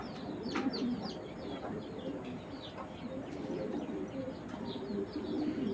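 Giribaz pigeons coo steadily in a low, rolling chorus, with scattered chirps overhead and no talking.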